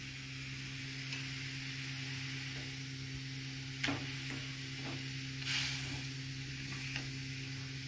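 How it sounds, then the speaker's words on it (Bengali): Fish pieces drop into a hot pan and hiss with a steady, quiet sizzle, broken by a couple of louder splashes and stirring clicks, with no talking. "এরপর মাছগুলো আমি ছাড়ছি।"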